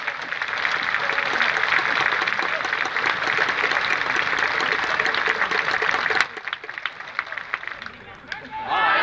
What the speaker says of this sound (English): Listen to that clapping there.